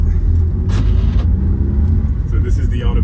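A 2006 Smart Fortwo 61hp drives over a rough gravel road, heard from inside as a loud, steady low rumble of tyres and engine, with a person talking over it.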